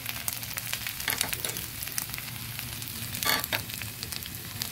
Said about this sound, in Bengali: আদা আর পেঁয়াজটা কিছুটা ভাজা হয়ে গেছে, এবার দিয়ে দেব গুঁড়ো মশলাগুলো।